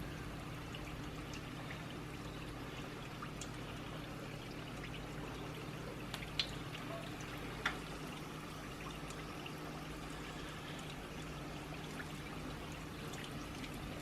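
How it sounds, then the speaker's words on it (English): Chicken pieces fry in a pan with a soft, steady sizzle and crackle and a few sharper pops, faint and continuous. "Probably fry about 5 or 6 at a time."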